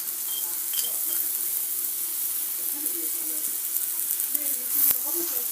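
Makki roti frying in cooking oil on a pan, a steady close sizzle running throughout with light crackles and a brief hiss near the end.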